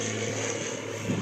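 A propeller airplane flies overhead on its approach to land at an airport near Plymouth, producing a steady, broad engine drone that holds even throughout and swells slightly near the end, with no talk.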